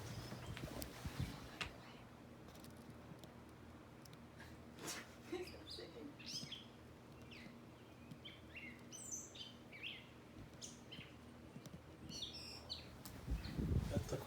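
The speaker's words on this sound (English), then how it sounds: "We have birds going crazy outside." Scattered bird chirps and calls from birds outside a house, faint and somewhat distant, over a quiet room tone with low background noise.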